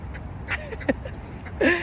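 A duck by a river gives a few short, nasal quacks in quick bursts, fairly close against faint outdoor background noise.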